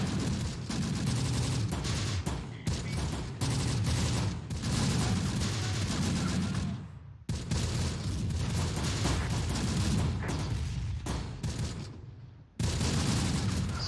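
Artillery and mortar barrages in the Close Combat: The Bloody First war game, loud overlapping booms and rolling gunfire in dense continuous bursts with brief pauses.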